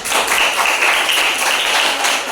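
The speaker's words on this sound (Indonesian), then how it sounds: "Tepuk tangan." A group of children claps hands together in a classroom, a dense, lively patter of applause that continues steadily throughout, with no talking over it.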